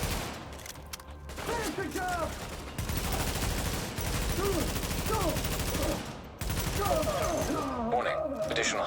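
Rapid video game shooter gunfire crackles in steady bursts through most of the stretch, with someone talking over it and a short lull near the middle.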